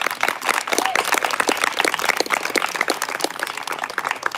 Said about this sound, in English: A round of applause to an amazing showcase.